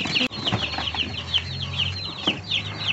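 Many baby chicks peep together nearby in a constant high chorus of short repeated chirps, with a brief knock near the start.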